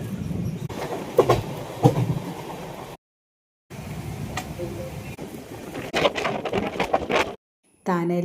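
A long-distance passenger train runs from Calicut to Thane on the Konkan route, its steady rumble and rhythmic wheel clatter loud and close inside the coach, broken by two brief abrupt silences.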